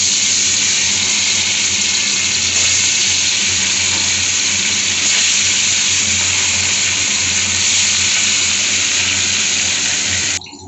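Silver carp pieces, washed and rubbed with salt and turmeric, dropped into hot oil give a loud, steady, broad sizzling hiss that runs unbroken for about ten seconds, then cuts off abruptly.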